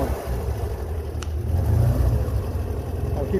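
A Pinzgauer vehicle engine rumbles steadily, rising slightly in a mild rev before settling back to a low idle around 1,000 RPM, loud and close.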